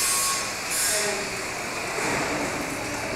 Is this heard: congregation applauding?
no